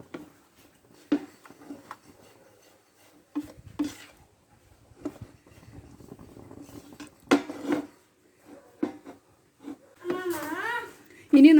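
A spoon stirs crushed potato into a beef cutlet mixture in a pan, giving scattered close clinks and scrapes of metal on the pan, while a person talks between the strokes.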